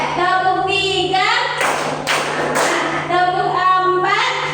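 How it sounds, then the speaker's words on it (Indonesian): Rhythmic hand clapping by a group in a counted clapping game, a few loud claps in a close burst between stretches of sung counting voices. "Tepuk 1, tepuk 2, tepuk 3"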